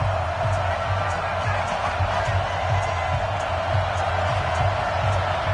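Stadium crowd at an EA Sports NFL football game against the Detroit Lions, a constant dense roar of cheering with scattered whoops, under a commentator's voice.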